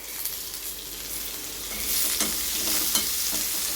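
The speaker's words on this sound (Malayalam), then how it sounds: "എന്നിട്ടത് നന്നായിട്ടൊന്ന് വഴറ്റാം." Onion with green chilli and garlic sautés in a pan, a soft, continuous sizzle that grows a little louder midway, with a few stirring scrapes close by and no speech.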